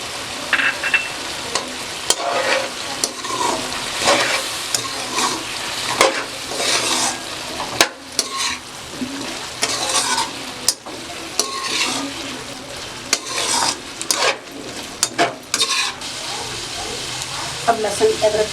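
Chili, turmeric and salt crackle and sizzle in hot oil for a potato and eggplant sabzi, with repeated scraping and stirring clatter against the pan throughout.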